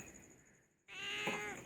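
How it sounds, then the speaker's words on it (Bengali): A crow gives one harsh, close caw that bursts in abruptly after a quiet, hushed start and then holds to the end. "কাকা ডাকছে, কাকা কাকা ডাকছে"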